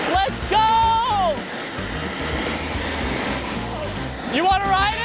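Jet engine on a jet-powered bike running with a steady high whine and a roaring rush, a rising whistle sweeping across the clip, with voices talking over it close by.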